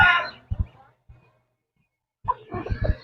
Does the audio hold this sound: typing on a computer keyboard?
no